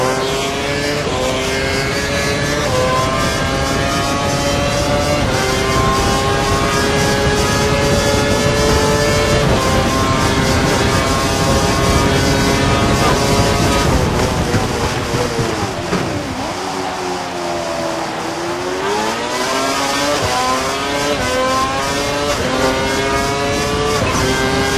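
F1 car engine screaming at full revs in the F1 2012 racing game, Indian Grand Prix, a loud continuous high-pitched whine with rising and falling gear-shift sweeps, briefly dipping mid-way before climbing again.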